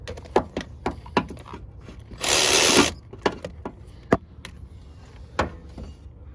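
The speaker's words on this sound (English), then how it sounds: "this electric ratchet with the swivel sockets really makes life easy." An electric ratchet with swivel sockets spins out timing-chain cover bolts during a timing chain replacement, giving one short loud whir amid scattered metallic clicks and tool knocks.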